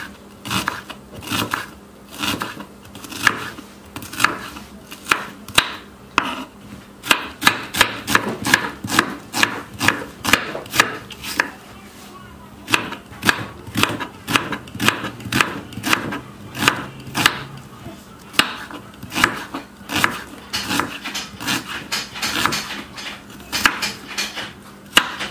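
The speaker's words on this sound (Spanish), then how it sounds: "Vamos a picar la cebolla" Onion being diced into small squares with a knife on a cutting board, a long run of crisp, rapid chopping strikes in uneven bursts with brief pauses between them, close and clear, with no talk over it.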